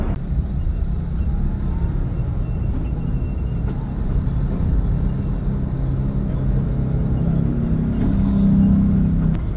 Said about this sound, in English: you can see all the cars coming around Casino Square, you can see all the cars leaving